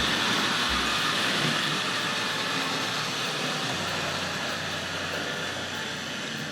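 A Tri-ang / Hornby Dublo model railway locomotive, number 262, runs around a layout, making a loud, steady mechanical rumble and whir close by, with no pauses.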